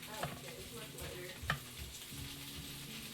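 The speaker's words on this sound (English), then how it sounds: "Sweet pan frying sizzles." Zucchini sizzling while pan frying, a steady close crackle with occasional stirring scrapes and a brief clatter in the middle.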